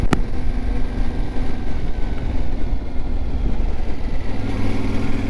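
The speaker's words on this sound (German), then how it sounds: "Motor läuft auch zivilisiert. Der Auspuff ist keine Schreianlage." A Yamaha Teneré 700 World Raid, a Euro 5 motorcycle, runs with a civilized engine and restrained exhaust, a steady close rumble after a brief sharp click at the start, no talking.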